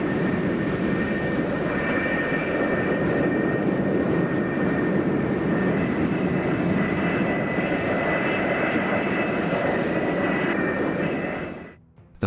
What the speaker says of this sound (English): The flight deck director meticulously guides each aircraft into position over its assigned catapult